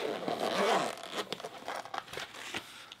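A zipper is pulled open around a stainless steel lock pick set case, a quick rasping run followed by several short scratchy tugs and crinkles, close and fairly loud.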